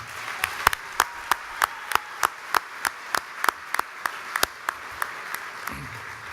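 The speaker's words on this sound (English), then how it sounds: "One more round of applause, please," Applause from an audience at a conference session: a steady run of distinct, evenly spaced claps that sound sparse rather than a full roar.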